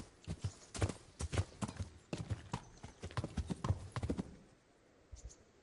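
A horse ridden in the medieval role-playing game Kingdom Come: Deliverance clip-clops at a steady walk, close and fairly crisp, the hoofbeats fading out near the end with no talk over them.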